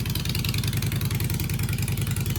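Harley-Davidson Night Train motorcycle with chopper exhaust idling steadily, a loud, close, low rumbling lope with an even pulsing rhythm throughout, no talking.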